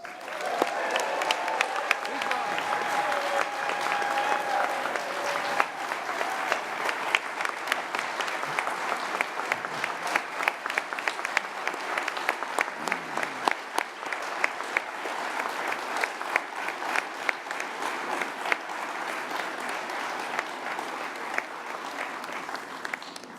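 Sustained applause with scattered cheers fills a hall as a crowd honors hall of fame inductees at a 2017 induction ceremony, steady and dense throughout.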